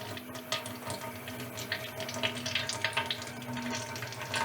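Water runs steadily from a kitchen faucet through a new carbon water filter being flushed into a sink, a continuous close splashing rush with no talk.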